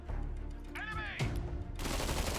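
Gunfire in the ZEPHON video game, a few bursts with a whistling sweep mixed in, heard under steady game noise.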